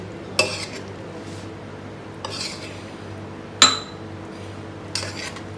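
Pasta ingredients are stirred in a pan, with four separate metallic clinks of a utensil against the pan at slow, even intervals over a quiet background.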